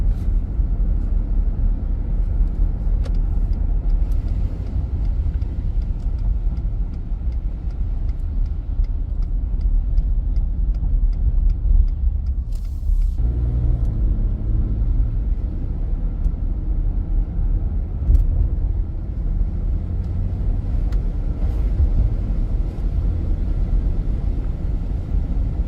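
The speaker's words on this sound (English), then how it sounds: "Truck's shifting really nice." A steady low engine rumble from inside a moving 2020 Ford F-150 XL STX 2WD pickup, with a brief dip and shift in engine tone partway through as it changes gear; no speech.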